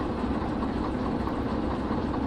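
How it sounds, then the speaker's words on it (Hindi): A locomotive engine runs steadily in the train simulator game Derail Valley, a constant low rumbling drone with no pauses or talk. "देखो ये वाला इंजन चल रहा है ना"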